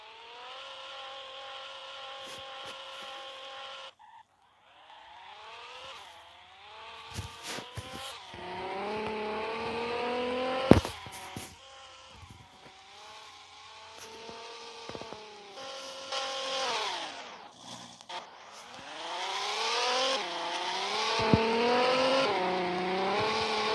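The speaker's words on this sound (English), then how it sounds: "Do a quick burnout." A car doing a burnout at a car meet, the engine revving hard in long rising and falling surges with tires squealing in between, loud and close, with no one talking.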